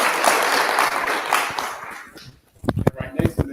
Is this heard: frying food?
no